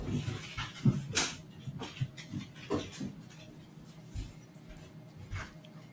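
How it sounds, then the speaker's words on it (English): A dog whimpers and pants after its noisy toy is taken away, giving a string of short close whines and yips in uneven bursts, alone without talk. "take this really noisy toy away from my dog"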